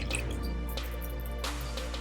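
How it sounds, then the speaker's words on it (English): Two cups of water poured into a crock pot, a short splashy pour with drips, close and fairly loud over a steady kitchen hum, no talking. "So we're going to add the 2 cups of water"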